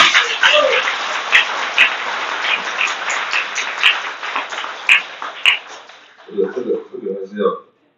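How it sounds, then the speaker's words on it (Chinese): Applause from an audience at a Taiwanese political talk event: sustained, dense clapping that swells and fades over several seconds before a voice starts speaking. "鼓掌"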